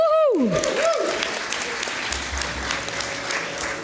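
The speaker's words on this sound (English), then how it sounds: "Let's applaud the official passing on of the baton." An audience at a managing committee investiture ceremony breaks into applause after a brief cheer, steady clapping from a crowd in a hall that carries on throughout.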